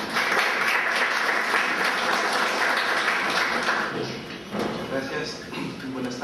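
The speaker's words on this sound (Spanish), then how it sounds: "el doctor Pedro Grandes Castro, a quien vamos a recibirlo con un fuerte voto de aplausos." Audience applause welcoming a speaker at an international seminar on quantifying damages in judicial proceedings, a dense, steady clatter of clapping hands that fills the room and eases slightly near the end.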